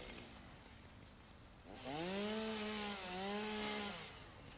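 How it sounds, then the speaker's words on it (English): Chainsaw cutting wood in the video game Satisfactory, a loud buzzing engine whine that revs up partway through and holds steady for a couple of seconds before easing off, with no talking. "Now I can use it for my chainsaw."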